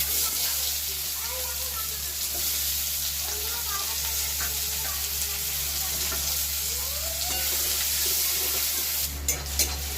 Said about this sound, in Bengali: প্রথমে ফোড়ন দিয়ে দেবো কালো জিরে এরপর দিয়ে দেবো পেঁয়াজ